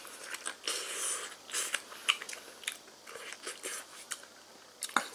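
Crunchy chewing of a crispy pan-fried pollock-roe mayo dumpling, close up and fairly quiet, with irregular bites and crackles spread across several seconds and no talking.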